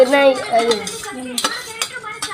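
Puffed rice tossed with chili powder and salt in a pan as children make a snack at home: a close scraping, rattling stir with a few sharp utensil clicks against the pan, over a tonal background.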